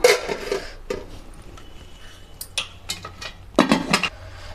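A cooking pot lifted and set aside while rice is washed in a home kitchen: scattered metallic clinks and clanks of pots and utensils, sharp and close, with quiet stretches between them.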